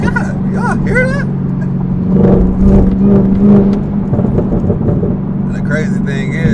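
Exhaust of a modified Chevrolet Camaro ZL1 rumbles and swells through a couple of revs, a deep steady drone with a louder burst in the middle, while people talk over it close by.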